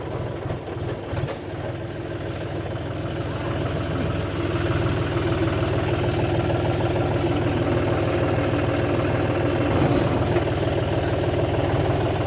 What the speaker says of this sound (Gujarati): અટાણે રોટાટર ચાલુ કરી દે ને વહેલું પૂરું થઈ જાય